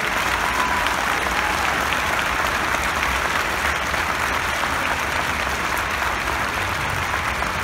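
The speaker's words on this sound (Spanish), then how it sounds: "Fuerte el aplauso para nuestro trompa de órdenes." Audience at an outdoor park concert applauding a bugler, a thick, even wash of clapping sustained throughout at moderate loudness.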